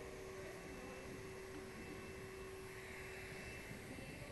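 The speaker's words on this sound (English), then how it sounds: "It's the cooling system." The air cooling unit of a medical device fitted with a 2 mm tip gives off a faint, continuous whirring hiss with a thin steady tone, unbroken and without speech.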